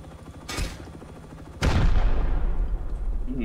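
Two sharp gunshots from a video game, a lighter crack followed a second later by a heavy booming blast with a long rumbling tail that lingers to the end.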